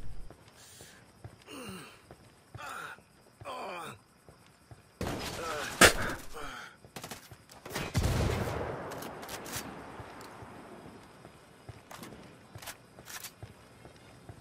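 Bursts of rapid gunfire crackle between quieter stretches in the video game Ghost Recon Wildlands, with scattered footsteps and shuffling; several volleys cluster mid-clip, then trail into sporadic shots.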